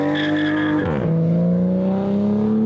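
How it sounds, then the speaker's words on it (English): A Toyota A90 Supra fitted with an RK Titanium single 4-inch exhaust revs hard, its loud droning tone dipping briefly then climbing steadily in pitch as the engine winds up, close by and without talk. "as soon as you lay into it, it's like, hey, don't forget this is a 4-inch exhaust"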